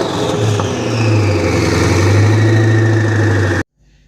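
Koenigsegg Agera S engine revving loudly up close, a deep steady roar holding and rising slightly before cutting off abruptly into near silence.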